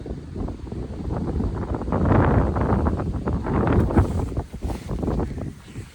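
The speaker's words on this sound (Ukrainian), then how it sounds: "Вітер дмухає." Wind gusting across an open village vegetable plot freshly cleared from virgin ground, a steady broadband rush swelling and easing in strong surges at close range, with no speech.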